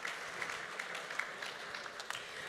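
On a French TV show, a studio audience gives Hamda a round of applause: even, sustained clapping that stays moderately distant and fairly faint, with a few sharper claps popping out.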